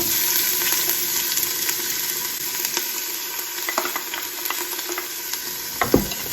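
Onions and carrots sauté in hot olive oil in an Instant Pot, a steady close sizzle broken by scraping stirs and a few sharp utensil clinks toward the end.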